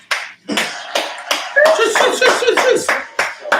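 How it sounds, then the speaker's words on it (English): Several people clap in a loose, uneven burst on a producers' podcast, sharp slaps and hand smacks close to the mic, with voices talking and a brief laugh over them. "Sounds like we actually clap."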